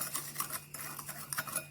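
A spoon clinks and swirls against a glass in quick, light strokes, stirring sugar into flavored jelly mixture, quiet and close.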